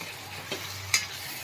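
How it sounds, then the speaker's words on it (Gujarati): Mixed Gujarati undhiyu vegetables and spices are stirred in a pan, with two quick spoon scrapes over a soft, constant sizzle, close and without speech. "એકદમ સરસ મિક્સ કરી લેશું બધું શાક મસાલા સાથે"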